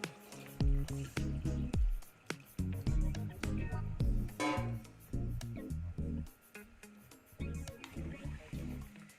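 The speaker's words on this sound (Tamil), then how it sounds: "ரெண்டு டம்ளருக்கு மூணு டம்ளர் தண்ணி அளந்து வச்சுருக்கேன் இது அப்படியே இதை ஊற்றி" Water poured from a tumbler into a clay pot for chicken biryani makes close, gurgling, splashing pours that come in several uneven bursts.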